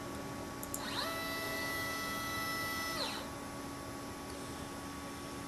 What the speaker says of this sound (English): here goes our 290 millimeter move